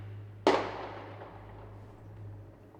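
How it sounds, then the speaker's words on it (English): A single sharp firework bang goes off, loud and fairly close, with a long rumbling tail that fades slowly over a low steady hum. "Fireworks."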